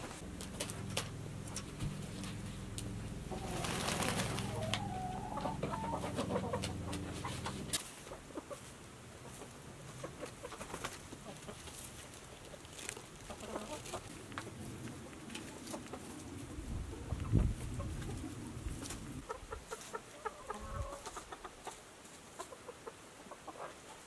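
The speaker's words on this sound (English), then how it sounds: "I'm gonna head inside and get the chicken some water and new food." Backyard chickens in a wintry Alaska coop clucking and squawking, with a loud burst of calls early on followed by softer intermittent clucks and rustling nearby.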